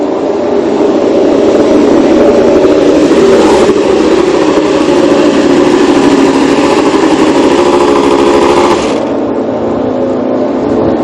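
A 2021 Suzuki GSX-RR MotoGP bike's engine runs loud and close with a sustained, raspy roar that holds steady and then drops away near the end, heard over a lively event setting.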